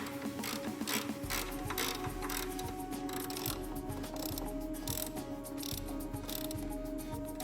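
A ratchet tightens the three shock mounting bolts during a front air spring replacement on a Porsche Cayenne, VW Touareg or Audi Q7, with rapid repeated clicking bursts close by and continuous workshop hum underneath.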